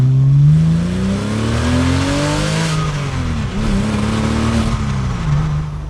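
Porsche Boxster 986 flat-six, largely stock apart from an aftermarket rear silencer, revving up and settling back through a raspy exhaust note, with pitch rising, dipping and rising again, loud and close with no talk.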